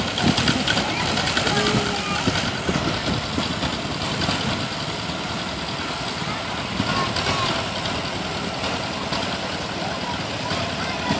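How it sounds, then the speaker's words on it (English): A 1950 John Deere Model M tractor engine runs steadily at an outdoor power parade, a loud continuous rumble mixed with crowd and PA noise, with people talking over it. "Next up is a John Deere Model M, 1950 model."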